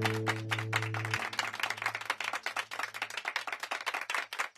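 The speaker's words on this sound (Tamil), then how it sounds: "சோ எல்லாரும் அவங்களுக்கு ஒரு கைத்தட்டுல கொடுங்க." An audience on a Tamil TV serial's game show claps in a dense, steady burst that fades toward the end, over a low sustained musical tone in the first second.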